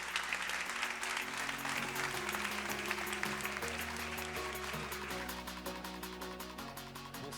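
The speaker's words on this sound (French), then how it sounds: "Sous vos applaudissements, s'il vous plaît." A conference crowd applauds steadily, many hands clapping in a dense patter over music with sustained tones, holding through to the end.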